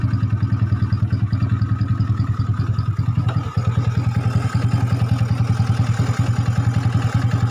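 A Yamaha Nouvo Z motorcycle, bored up and fitted with a new head and KLX carburetor, idles roughly with a fast, uneven clattering pulse, loud and close, alone without talk.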